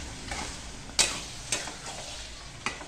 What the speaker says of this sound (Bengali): এই ম্যারিনেট করা চিকেনটা এবার এর মধ্যে দিয়ে দেবো, দিয়ে আবার ভালো করে কষিয়ে নেব।